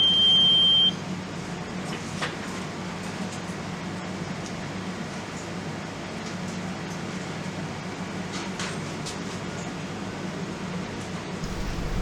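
An oil mist detector alarm beeps and buzzes during a smoke spray test on a detector head, a steady electronic tone held over constant machinery-room hum, with no talk.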